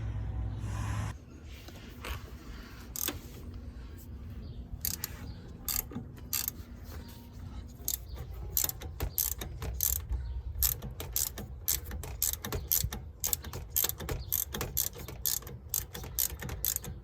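Ratchet wrench with an 8mm socket backing out screws on a Ford F-250 axle, close up: a run of quick, crisp clicking bursts in uneven spurts, growing busier toward the end, with no talking.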